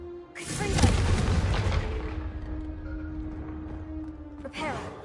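A Confringo fire spell explodes in a Harry Potter video game, a loud booming blast that rumbles on for several seconds amid game sounds, followed by a smaller burst near the end.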